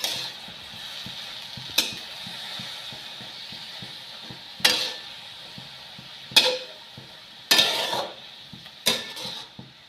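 Fenugreek (methi) leaves being stirred as they fry in a pan: a low continuous sizzle broken by several sharp scraping clacks of a spatula against metal, close and loud, with no talking.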